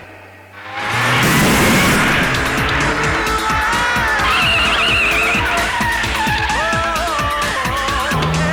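In a Hindi film scene, a car's tires screech in a long, loud skid under a roaring engine, the squeal wavering for several seconds.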